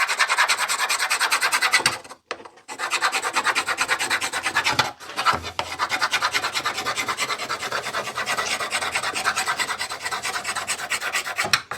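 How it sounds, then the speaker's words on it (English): A screen door sanding block rubs back and forth across a wooden board in a steady, rasping rhythm, loud and close, with two brief pauses and no talk. "screen door sanding block appears to have done a nice job getting one smooth flat surface on this board"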